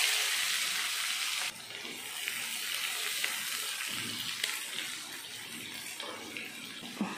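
Dried red chillies and sliced onions sizzling in hot oil in a pan, a steady loud hiss that drops slightly partway and carries on with faint crackles and small stirring knocks.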